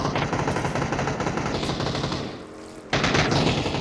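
Rapid automatic gunfire in PUBG, dense bursts that briefly drop off and then resume abruptly, loud and close with no speech.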